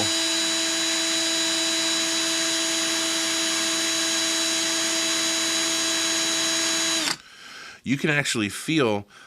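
A Pinewood Derby wheel spins steadily against sandpaper for about seven seconds, giving a loud, even motorised whir with a high grinding hiss, then stops abruptly as a voice speaks.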